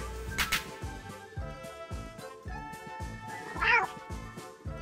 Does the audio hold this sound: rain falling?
no